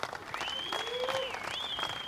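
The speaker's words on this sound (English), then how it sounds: "Let's give applause for that." Crowd applause at the Surf Abu Dhabi Pro surf competition, fairly faint and distant, with a whistle-like tone and a voice faintly over the clapping.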